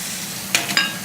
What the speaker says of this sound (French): On va prendre le coin de la casserole là et on va brouiller l'œuf.